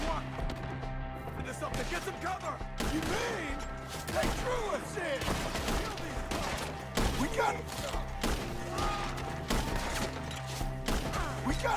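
Rapid gunfire erupts in a Red Dead Redemption 2 shootout, with repeated bangs and thuds over continuous background clatter while voices shout throughout.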